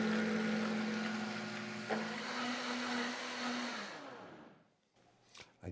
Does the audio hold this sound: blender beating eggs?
yes